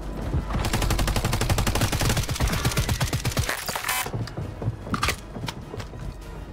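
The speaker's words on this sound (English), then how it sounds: "Estão atirando em mim aqui." Rapid automatic gunfire in the video game Warzone 3, a loud sustained burst of closely spaced shots lasting several seconds, followed by a few sparser, fainter reports and mechanical clicks.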